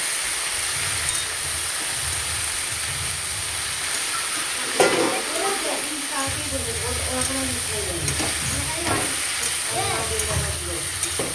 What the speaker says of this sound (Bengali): এবার দেওয়া হবে নুন, দিয়ে এবার ভালো করে নেড়ে নেব।